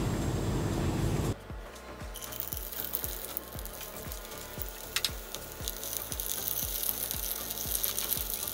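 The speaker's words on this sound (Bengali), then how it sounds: "হালকা একটু তেলে ভেজে নিব। এবার পটলগুলোকে একটা একটা করে দিয়ে দিব।" Slices of pointed gourd (potol) go into hot oil in a pan and start frying: after a short lull a close, steady sizzle rises, with a run of regular clicks and pops through it as the pieces cook.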